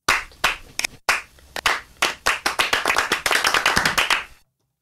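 Sampled hand claps from a pop song, played as sharp isolated hits at first, then a rapid steady run of bright claps that stops abruptly, with no voices.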